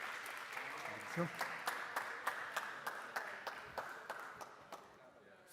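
A tech event audience applauds as a speaker comes on stage, a fairly faint room full of clapping with a few sharper individual claps standing out, tapering off at the end while a voice briefly speaks.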